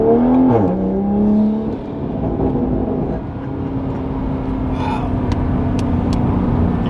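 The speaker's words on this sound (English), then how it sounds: "especially under like kind of half throttle, you'll hear like the intake sucking in some air" A Toyota Supra MK5 fitted with an Armaspeed carbon intake revs up sharply, then drops back to a steady, droning engine note. A few faint clicks come near the end.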